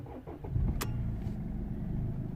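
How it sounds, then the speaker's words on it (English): A Mercedes C220 CDI diesel with a P2511 fault cranks briefly and catches, then settles into a steady, low, even idle close by. "Now let's gonna start the engine."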